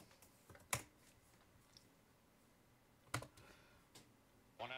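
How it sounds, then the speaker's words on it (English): A few scattered keyboard clicks and taps, quiet and irregular, with brief louder strikes separated by near silence. "I'm typing with one hand."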